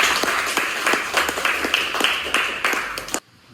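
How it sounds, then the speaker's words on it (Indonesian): A classroom audience at a nursing academy claps for a classmate, a dense, brisk burst of applause lasting about three seconds before cutting off abruptly. "Kita berikan aplaus untuk temannya yang sudah."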